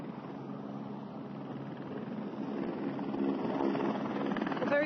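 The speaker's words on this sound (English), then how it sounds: "there are choppers here at the old airport in Virginia, where you can see a police chopper, but also to my right you'll see an SANDF chopper" Police and SANDF military helicopters at an old airport in Virginia, KwaZulu, during disaster relief: a continuous low rotor and engine drone, steady and moderately distant, swelling slightly louder toward the end with wind rumble mixed in.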